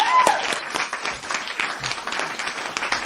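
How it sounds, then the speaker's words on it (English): A live studio audience applauds in a steady burst of loud, dense clapping that carries on evenly throughout, with no talking over it. "I like it when people clap."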